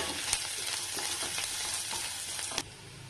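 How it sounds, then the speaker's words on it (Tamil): Curry leaves sauté in a pan for prawn gravy, making a continuous crackling sizzle broken by a few stirring scrapes, close and moderately loud, with no speech. "கருவேப்பிலை ஒரு கொத்து, அதையும் சேர்த்து நல்லா வதக்கிடணும்."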